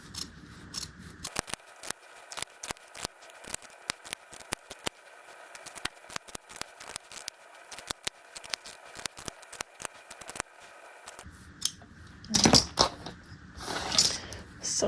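Fabric scissors snip steadily along a marked line on a tailored jacket undercollar, a long run of crisp close cuts at an even pace, followed by brief rustling handling of the cloth.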